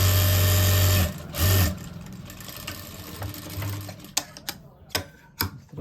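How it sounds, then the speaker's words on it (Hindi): A sewing machine runs in two quick bursts, stitching a pocket seam on elastic-waist trousers, then falls to a few sharp clicks and taps as the fabric is handled. "एक सिलाई और लगाएंगे हम पक्की,"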